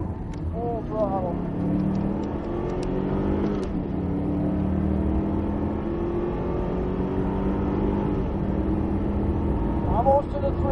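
Cadillac CTS-V at full throttle on the Circuit of the Americas race track, a loud sustained engine roar rising in pitch through the gears, close and steady, with an instructor talking over it.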